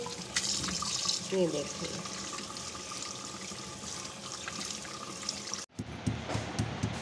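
Tap water runs steadily into a sink while raw chicken is washed by hand for a zinger burger recipe, a constant splashing stream with a brief voice over it before the flow cuts off and restarts.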